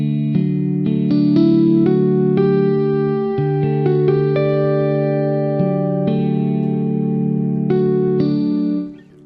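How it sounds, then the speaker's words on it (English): Dry guitar notes and chords played through the Fracture Sounds Hemisphere instrument with echo off, sustained sounds ringing and overlapping in a steady phrase, loud and close, fading out at the end. "turn the echo off and play the guitar completely"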